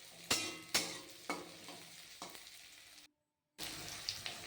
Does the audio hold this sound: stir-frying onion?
yes